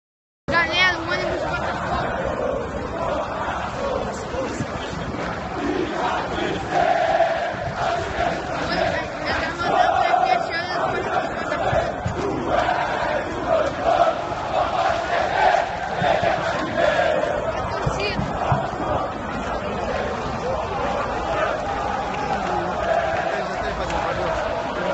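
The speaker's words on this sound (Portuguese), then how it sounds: "Vocês podem ver aqui a torcida, ó." Botafogo football supporters fill a stadium during a match against Olimpia with continuous loud crowd noise, a dense roar of chanting and shouting that stays steady throughout, heard from within the stands.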